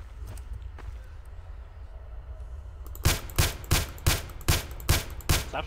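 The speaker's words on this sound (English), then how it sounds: "Stop shooting it, bro." Gunfire in Garry's Mod: after a quiet stretch with faint scattered sounds, a steady run of about eight loud, evenly spaced shots fires in quick rhythm close by.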